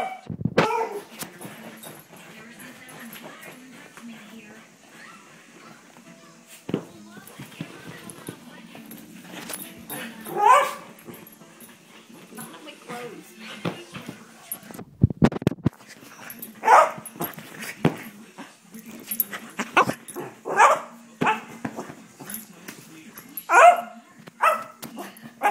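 A dog nicknamed Beast Dog barks and whimpers in short bursts at close range, with people talking and laughing around it and keys jangling now and then.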